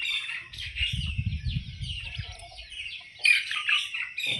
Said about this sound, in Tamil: நாட்டு சேவல்.